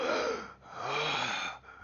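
A human voice imitating a creature's wet, heavy breathing, two long rasping breaths with a short pause between them, close and moderately loud, alone.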